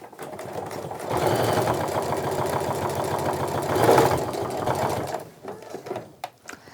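A sewing machine runs steadily for about five seconds, stitching a quarter-inch seam down a tote bag through bulky layers near the handles, then stops and leaves a few faint clicks and handling noises.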